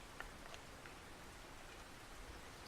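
Steady rain falls in the fishing video game Russian Fishing 4, a quiet, even wash of drizzle with a few faint droplet ticks and no voices.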